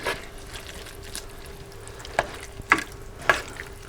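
Spaghetti and sausage sauce being stirred with a utensil in a CalmDo multicooker, a few distinct scraping clinks over a soft steady simmer, close and fairly quiet.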